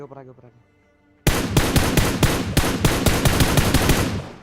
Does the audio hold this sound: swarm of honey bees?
no